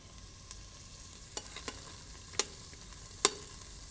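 Onion and garlic sautéing in oil in an Instant Pot give a faint, steady sizzle, broken by a few sharp clicks of a utensil stirring, with no talk.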